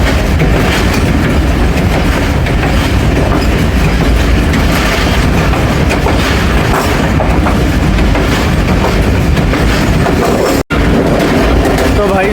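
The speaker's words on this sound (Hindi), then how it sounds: "फकीराबाद से ट्रेन हमारी स्किप कर रही है 13 अवाम एक्सप्रेस।" The Awam Express rushes past Fakirabad station, heard close and loud as a dense, continuous roar and rattle of wheels and carriages, with a brief dropout near the end.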